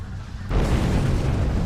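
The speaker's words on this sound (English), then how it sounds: "Well, that was quite an explosion." A ship blowing up in the space game Star Trek Online, a sudden loud broadband boom that swells and rumbles on without pause, heard alone.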